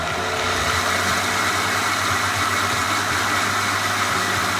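Breville Boss blender running on its chop setting, a continuous loud motor whir with a steady low hum and bright broadband buzz, unbroken throughout with no talk.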